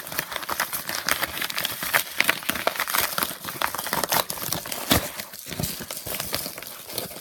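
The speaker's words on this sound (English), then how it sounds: "So I'm just gonna rip this side of the" Sharp tearing and crinkling of an accessories bag being ripped open along its side, a run of close, loud rustles and rips in quick irregular bursts.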